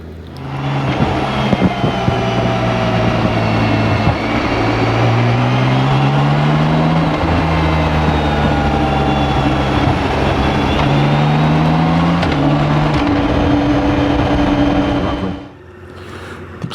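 A 2022 BMW K 1600 B motorcycle with a 1649cc engine and standard exhaust revs up and down, a deep smooth drone rising in pitch through gears, loud and close, then cutting off near the end.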